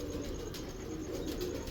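A pigeon coos softly over steady background noise, a low continuous murmur with no speech.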